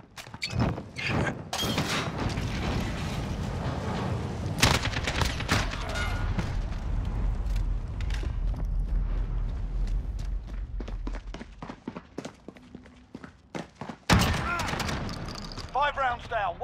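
Gunfire in a Call of Duty: Modern Warfare 2v2 Gunfight match, bursts of close shots and sharp cracks mixed with running footsteps and thuds, with people talking over parts of it.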